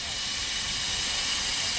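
A steam engine at a railway station in North Yorkshire lets out a loud, continuous hiss of steam that fills the short stretch close by.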